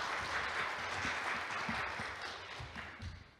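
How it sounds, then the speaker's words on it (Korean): A product launch audience claps for the presenter, with moderately quiet, steady applause from a modest crowd that tapers off toward the end. "다시 한번 큰 박수 부탁드립니다."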